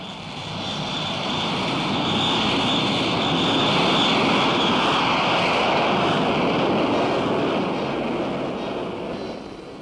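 A B-52 mothership flies with the X-15 experimental aircraft slung under its wing, its jet engines giving a steady, loud roar that swells and holds for about ten seconds with no talk.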